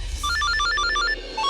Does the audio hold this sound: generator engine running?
no